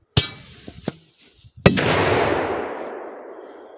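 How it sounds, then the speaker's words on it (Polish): A sharp pop and a few small knocks, then a loud firecracker blast inside a cooking pot with a metallic clang that rings out and fades slowly. "Garnek podskoczył, ale przed wybuchem."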